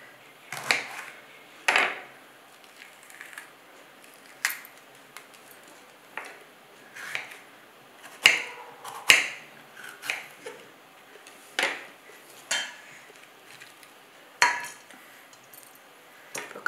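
A knife cuts a capsicum for spring onion fried rice, giving a series of sharp, separate chops and taps on a board, spaced about a second apart and fairly close, with no talking.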